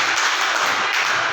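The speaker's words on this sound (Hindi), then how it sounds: "भाई साहब तालियां बजाओ" A classroom audience of students bursts into brisk, dense clapping during a history quiz, a steady close wash of hands lasting just over a second with no voices over it.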